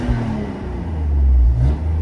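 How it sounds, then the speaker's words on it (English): A manual BMW 328i, built into a sport touring van conversion, revs briefly: a deep, close engine rumble that swells and climbs in pitch, then drops back, with no talking. "this is just such a sweet engine"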